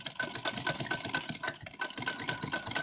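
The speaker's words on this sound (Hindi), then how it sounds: "अब इस पर हम सिलाई चला देंगे" Sewing machine running a stitch along a folded strip of lace for a deity's outfit, a fast steady mechanical chatter close by, continuous with no talking.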